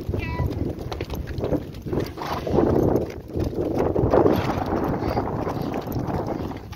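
Horse hooves canter on the ground during a riding lesson, a steady, rhythmic clip-clop close by with wind buffeting the microphone.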